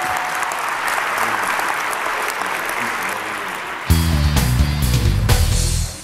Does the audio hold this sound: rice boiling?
no